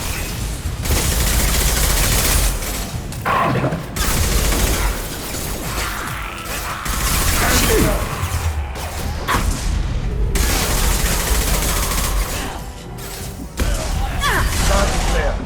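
Bursts of automatic gunfire and booming impacts in the sci-fi shooter Mass Effect 2, loud and repeated across the whole stretch with short pauses between volleys and mechanical weapon clatter.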